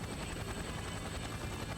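Helicopter in the Persona 4 Arena Ultimax video game, a steady loud rotor drone with dense low thumping that continues without a break and no talking over it.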